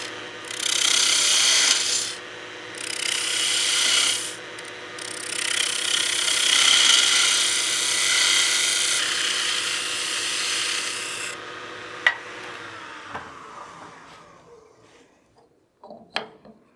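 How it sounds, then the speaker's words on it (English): A spindle gouge cuts a wooden snowman oil candle spinning on a lathe, giving a harsh scraping rasp in several bursts of a few seconds each. The cutting fades to near silence, broken by a couple of sharp clicks. "Then we can get our spindle gouge and start getting our radius here."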